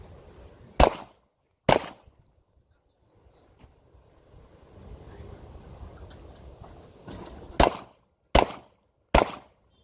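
Five sharp gunshots at a shooting competition, two early and three close together near the end, with wind and a low surf-like rumble filling the quiet gap between them.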